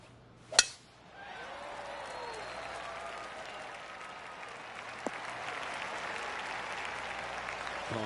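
Golf crowd on the Copperhead Course at Innisbrook in PGA Tour 2K23 breaking into soft, polite applause right after a sharp club strike, the scattered clapping rising and holding at a moderate, distant level.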